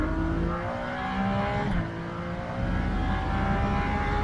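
Ferrari Challenge race car at Sonoma Raceway, a loud engine note rising through the gears and dipping briefly at a shift or lift, then climbing again.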